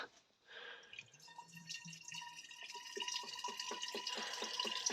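Water drips steadily from a leaking Peugeot 316 turbo engine being refilled, a rapid series of small close taps over a faint running trickle with no talk.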